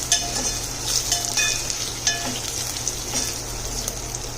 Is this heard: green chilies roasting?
yes